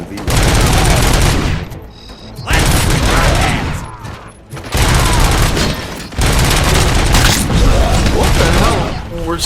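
Grenade explosions in RoboCop: Rogue City, heard as three long, loud bursts of blasts and crackling debris. Brief quieter gaps separate them.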